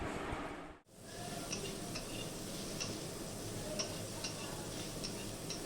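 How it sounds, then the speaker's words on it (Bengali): Papaya and pointed gourd fry in a pan, giving a steady, soft sizzle broken by faint ticks and stirring scrapes, with one brief drop in the noise near the start. "সবজিটা এখন আমি ভেজে নিচ্ছি।"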